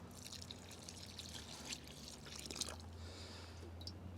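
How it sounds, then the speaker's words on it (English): Water pours steadily into compost-enriched peat potting mix in an outdoor herb container, a soft continuous trickle with faint splashy drips, low and even throughout. "Add some water."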